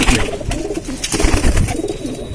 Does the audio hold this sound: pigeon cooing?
yes